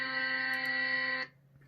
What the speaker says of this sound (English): And then I've got the stock informer. It's got an alarm. So this is the alarm.